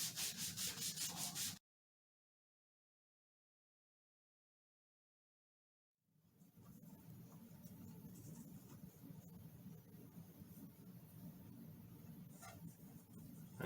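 Guitar frets on a Telecaster get rubbed with very fine 5000 grit paper, a soft steady scratchy rasp close by, cut by a few seconds of silence before the rubbing resumes.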